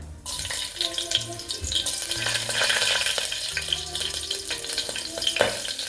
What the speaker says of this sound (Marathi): तेल छान तापल्यानंतर जिरं छान तळतळून दिल्यानंतर मी त्यामध्ये टाकणार आहे ह्या हिरव्या मिरच्या